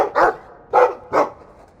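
Three loud, close dog barks from the dog companion in the game Dragon Age 2, spaced irregularly over under two seconds, with no talk over them.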